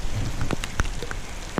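Rain falls on a reservoir during a fishing trip, coming through as a steady soft patter with a few sharper drops standing out, close and alone with no voices.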